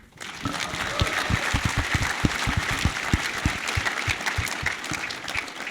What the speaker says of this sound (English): Let's hear it for Paul Goldschmidt.